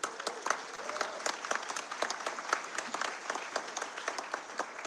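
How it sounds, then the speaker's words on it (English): Audience at a McFarlane DC Multiverse toy panel breaks into a steady round of applause, dense overlapping claps filling the room at moderate volume without a break. "just do a round of applause here too"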